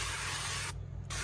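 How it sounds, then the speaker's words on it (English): A steady aerosol hiss of vegetable oil sprayed over the main burners of a CharBroil barbecue grill runs unbroken for most of a second, close and alone, then cuts off abruptly. "if you spray some vegetable oil"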